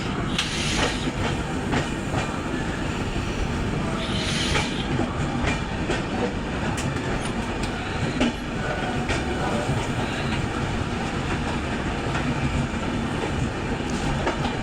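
The 12859 Gitanjali Express runs between Nagpur and Santragachi, its loud, steady rumble and rhythmic clickety-clack of wheels on rails continuing without a break, with no voices.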